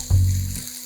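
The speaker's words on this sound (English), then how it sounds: "you want to cook those mushrooms so they sizzle" A short burst of close, steady sizzling as mushrooms fry with garlic in olive oil in a hot pan, with a low hum beneath.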